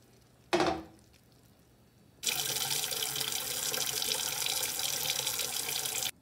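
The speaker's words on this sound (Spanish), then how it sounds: "Y ahora voy a retirar el agua hirviendo para colocar agua fría." Water runs steadily from a kitchen tap into a pot, refilling it with cold water over freshly boiled eggs after the hot water is drained; a brief clatter comes first, then a loud, continuous close-up splashing rush that lasts several seconds.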